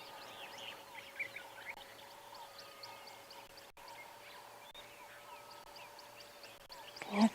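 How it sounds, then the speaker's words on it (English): Various wild birds call at sunrise on safari, a mix of chirps, whistles and repeated short notes scattered at moderate distance over a quiet, low background hum. "quite a few different birds around"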